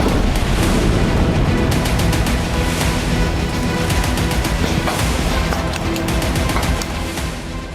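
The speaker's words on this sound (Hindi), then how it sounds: "आतंक पर प्रहार, आतंकियों के ठिकानों पर बमों की बौछार।" Heavy bombing of terrorist hideouts rolls on as a dense, loud barrage of booms and rapid blasts, overlapping continuously with no pause and no voices.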